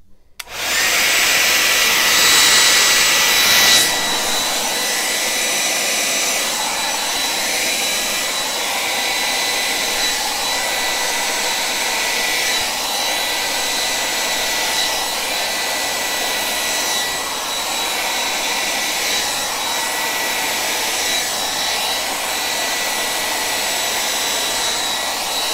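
A loud, steady blower, like a hair dryer, pushes air across poured black paint in a Dutch pour fluid art piece. It roars continuously and close by, with no talking.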